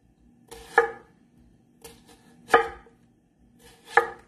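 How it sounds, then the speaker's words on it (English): Onion being chopped thinly with a knife on a board, four separated bursts of cutting strokes with short pauses between, close and clear with no talking. "Now we chop the onion."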